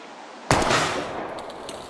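A single sharp gunshot in the Life is Strange video game, fired at an old blue plank, bursts in loud and close, then decays into a lingering echoing tail.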